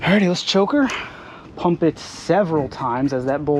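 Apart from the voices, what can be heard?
None of the usual background noises is heard.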